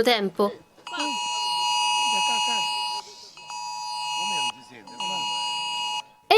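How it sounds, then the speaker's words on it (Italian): The IT-Alert national public emergency alarm sounds on many mobile phones at once during a test at a market in Catania, Sicily: long loud tonal blasts with short gaps, while a voice speaks over it. "È il suono distintivo di IT Alert, il nuovo sistema di allarme pubblico nazionale che oggi viene testato in tutta la Sicilia."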